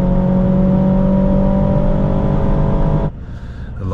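A 2025 Aston Martin DBX 707 SUV with a 707 hp engine, heard from inside the cabin, drones loudly and steadily as it accelerates before the tone drops off near the end.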